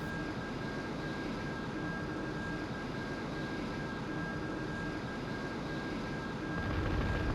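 Steady jet engine roar from an aircraft on a low, fast level bombing run in the flight sim game Strike Fighters 2, a constant loud drone that swells slightly at the end.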